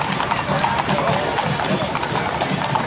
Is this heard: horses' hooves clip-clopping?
yes